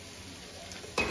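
Cumin, garlic and ginger hit hot oil in a home kitchen: a quiet, steady hiss suddenly bursts into a loud, close sizzle near the end that keeps crackling.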